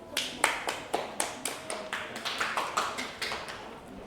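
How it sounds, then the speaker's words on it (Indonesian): A classroom group applauds a student, Mas Revan, during a microteaching session; a scattered round of hand claps comes in steady pulses, fairly close and moderately loud, fading slightly toward the end with no talking. "Beri tepuk tangan buat Mas Revan."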